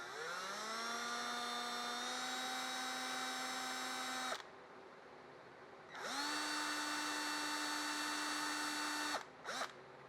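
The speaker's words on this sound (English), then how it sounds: "this hole here needs to be drilled with like a 4 millimeter drill bit" A power drill bores a hole with a 4 mm bit in a Porsche 356 door part, whining loudly and steadily in two long runs separated by a brief pause, then a couple of short stuttering bursts at the end.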